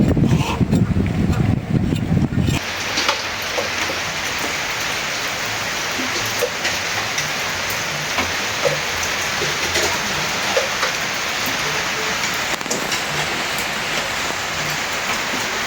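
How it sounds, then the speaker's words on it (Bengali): Light drizzling rain patters steadily and softly, a continuous close wash of drops that sets in after a brief low rumble at the start. "আর বৃষ্টিও পড়তেছে ঝিরি ঝিরি।"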